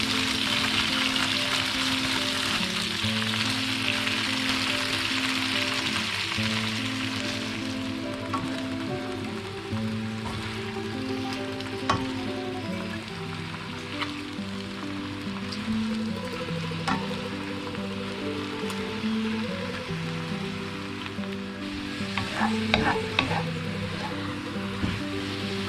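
Spinach sautés in a pan with a continuous crackling sizzle over a tonal background hum, with occasional sharp clicks and stirring scrapes, particularly toward the end.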